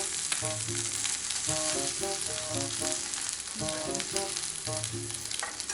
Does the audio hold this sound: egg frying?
yes